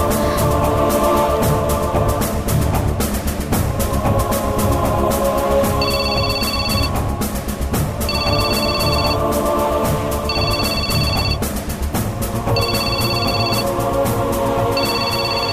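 Telephone ringing in a drama scene, five repeated electronic ring bursts evenly spaced over a loud continuous music bed, no talk.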